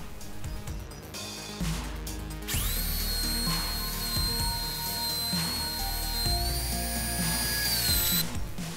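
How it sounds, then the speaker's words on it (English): A metal part is ground on a power grinder, a loud, steady high-pitched whine with a sharp rising tone as the part is pressed in, continuous for several seconds. "During grinding, the part heats up very much."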